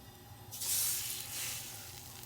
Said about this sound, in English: So we're just gonna pan fry them until they're golden brown on one side and then flip.